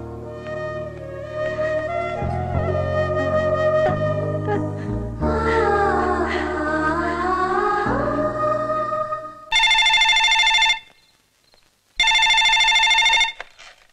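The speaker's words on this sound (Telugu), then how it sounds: "మా ఇంట్లో ఫోన్ ఎవరు ఎత్తట్లేదు." Telephone in a Telugu film scene rings unanswered: two loud, bright electronic ring bursts near the end, separated by a brief silence, following a stretch of dramatic orchestral music.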